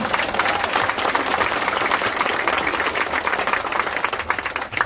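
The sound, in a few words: audience applause for Abuya Agus Muslim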